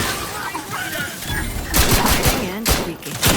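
Rapid bursts of gunfire in the video game Outer Worlds 2, loud and close, with sharp cracks clustering in the second half over game ambience and faint voices.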